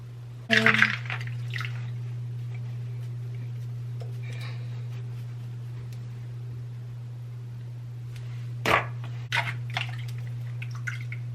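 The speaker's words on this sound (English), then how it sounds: "Just make sure all the water is out." Water squeezed from wet makeup brushes drips and patters in a few short bursts, one near the start and another cluster later, over a steady low electrical hum in a quiet room.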